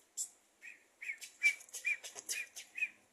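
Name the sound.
child imitating baby chick chirp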